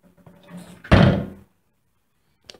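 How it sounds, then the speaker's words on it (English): A heavy door in the foyer of a historic house swings shut with a single loud, booming slam that rings briefly and then falls silent, followed by a faint click. "And this thing's about to slam."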